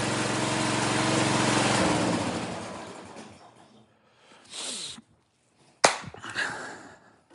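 A repaired Husqvarna engine runs loudly, then winds down and cuts out, followed by a few short bursts as it sputters and briefly catches again.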